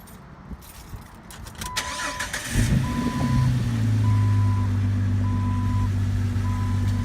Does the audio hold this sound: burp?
no